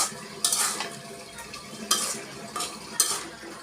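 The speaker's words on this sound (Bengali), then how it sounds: "পুঁই শাক দিয়ে চিংড়ি মাছ দিয়ে আলু দিয়ে রান্না করতেছি।" Malabar spinach cooks with shrimp and potatoes in a pan, with a soft sizzle under repeated scraping stirs of a utensil against the pot, each stroke a sharp swish in an uneven rhythm.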